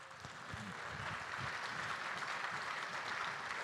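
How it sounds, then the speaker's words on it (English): An audience at a LEAD ceremony applauds the student workers, a faint, distant wash of many hands clapping steadily for several seconds with a low murmur of voices underneath. "Can we please give a round of applause to all the student workers who have worked here tonight"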